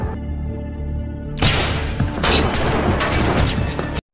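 Gunfire breaks out in a film shootout between Danny and Monty's henchmen, a loud dense burst of shots and crashes erupting after a tonal music-like passage, with a second surge of rapid fire continuing to the end.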